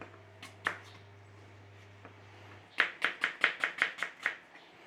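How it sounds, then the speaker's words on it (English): Knife cutting eating apples into thin slices on a board: a few scattered taps, then a quick run of about ten sharp, evenly spaced chops close by. "So for these eating apples, we're just going to do a few little slices through there."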